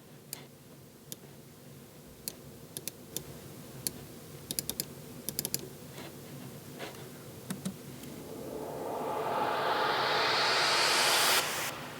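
A synth riser made in Logic Pro swells steadily from faint to loud over several seconds, its pan automated to sweep from left to right, while sparse clicks and ticks sound throughout the first part.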